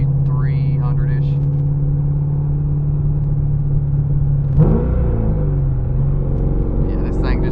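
A Chevrolet C6 Corvette Z06 with a bigger cam, light flywheel and twin-disc clutch idles with a deep, lumpy rumble close by, then blips its throttle sharply once before settling back to the same steady idle.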